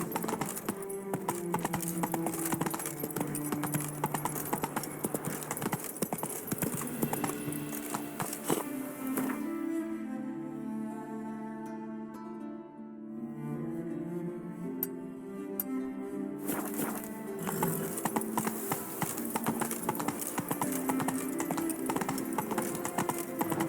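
Horse galloping in the video game The Witcher 3, with a quick, even hoofbeat rhythm and a break midway where a tonal, musical passage takes over before the hooves resume, fairly close and with no voices.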